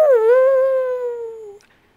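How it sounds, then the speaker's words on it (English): A single long, wavering howl like a dog or wolf rings out loud and close at night, sliding slowly downward before breaking off, with no other sound around it. "a howling sound split the night and shook the ground"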